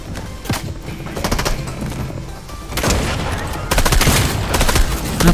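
Rapid shotgun blasts and other gunfire in a Fortnite match, loud bursts repeating through the clip alongside dense game effects, with a voice talking briefly.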